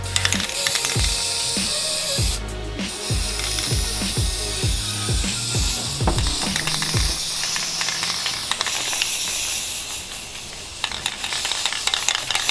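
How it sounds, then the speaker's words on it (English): A spray paint can, used while making sunglasses, gives a steady, loud hiss. Rhythmic rattles and clicks run through the first half, then the hiss continues alone. "there is a lot of spray paint going around this camera"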